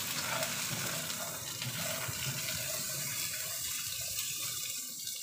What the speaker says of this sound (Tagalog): lutuin lang natin hanggang magkaroon ng brown ang gilid-gilid ng mga patatas natin